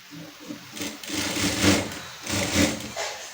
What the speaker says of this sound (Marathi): ह्याला आता आपण दाबटीप मारून घेऊयात